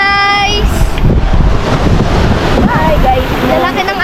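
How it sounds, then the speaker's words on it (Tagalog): Big sea waves wash and surge in a continuous roar with gusts of wind buffeting the microphone, while brief voices and shouts come through over the water noise. "Lalaki ng alon."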